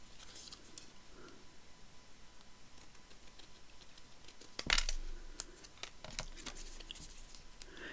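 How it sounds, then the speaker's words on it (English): Tonic scissors cut through paper for a journal craft, with a soft rhythmic patter of snips followed by a louder sharp clatter and a few crisp cuts, close and alone without talk. "Just takes me a while to cut out, because cutting straight is not a forte of mine."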